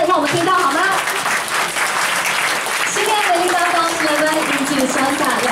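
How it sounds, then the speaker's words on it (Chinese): Loud, continuous applause fills a wedding reception hall, with a voice carrying over the clapping throughout. "热情的掌声让我们听到好吗？"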